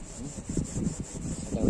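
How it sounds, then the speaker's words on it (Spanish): Steel wool rubbed over a wooden carpenter's mallet makes quick, rhythmic scratchy strokes, close and steady. "uno de los usos es este, ¿no? El pulir."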